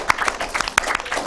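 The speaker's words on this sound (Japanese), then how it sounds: "改めて拍手を。" An audience claps at the close of a talk and workshop, with brief, scattered hand claps heard nearby.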